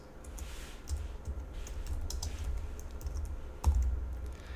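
Keys clatter on a computer keyboard as code is typed, a close run of quick irregular clicks with one sharper keystroke near the end and no speech.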